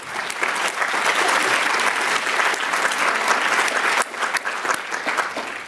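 Meeting audience applauding the organizational committee, a full, continuous wash of clapping from many people that holds steady for several seconds, with a slight dip and renewed swell near the end.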